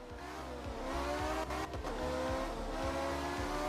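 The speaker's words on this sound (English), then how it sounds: "Oh my god, this car sounds like it's possessed." A Lancia Stratos rally car in the video game Art of Rally, its engine revving hard with a rough, growling tone and repeated gear-shift dips, loud and continuous with no talk.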